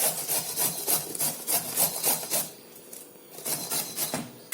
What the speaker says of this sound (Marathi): इथे आपली काकडी छान किसून झाली आहे ह्या पद्धतीने आपल्याला किसून घ्यायचं